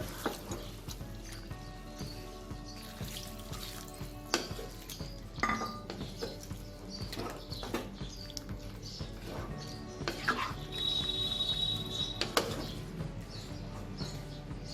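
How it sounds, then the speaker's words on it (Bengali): Mixed vegetables cooking in a pan for Bengali bhoger labra, with a splash of water added, set off a busy clatter of utensil scrapes and stirring over a steady sizzle, with metallic clinks and a brief hiss near the end. "এবার আমি এতে খুব সামান্য একটু জল দেব।"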